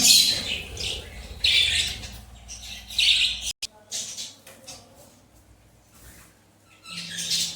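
Small pet birds chirp and squawk in bursts, high and busy, with a person talking over them and a short break partway through.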